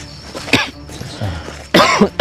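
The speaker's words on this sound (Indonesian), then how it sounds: "Saya mungkin kecapean ya, batuk ya?" Two coughing fits from a person who is tired after time in the forest, a short one early and a louder, harsher burst near the end, close to the mic with a quiet background between them.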